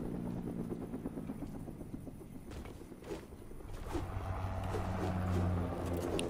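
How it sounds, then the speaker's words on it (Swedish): Helicopter in the Fortnite video game, a steady low rotor drone that swells slightly louder toward the end, mixed with game sounds and footsteps. "Helikopter, helikopter!"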